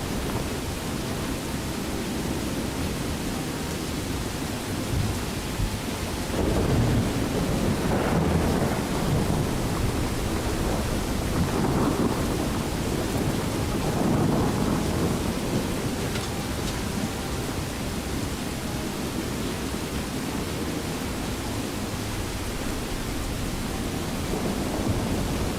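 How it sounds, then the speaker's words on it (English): Heavy rain pours steadily in the Skyrim video game, a loud, continuous wash with low rolling thunder swelling several times midway through, no voices present. "The rain is loud too."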